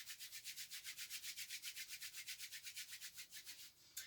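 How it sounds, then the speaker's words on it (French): Hands briskly rubbing up and down a leg during a tai chi self-massage warm-up, a steady run of about thirty quick, even strokes, soft and close, with no talk. "on frotte"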